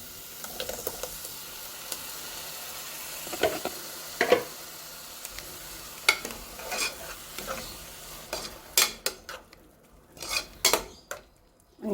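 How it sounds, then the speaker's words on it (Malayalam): Onion and tomato sauté in a pan for a chickpea curry, with a soft sizzle beneath irregular clinks and scrapes of a spoon against the pan, growing busier and louder toward the end, with no talking. "ഉള്ളി തക്കാളിയൊക്കെ ഒന്ന് മുരിഞ്ഞിട്ട് തക്കാളി ഉള്ളി ഒക്കെ അതിൻ്റെ പച്ച ചുവക്കെ പോയിട്ടുണ്ട്"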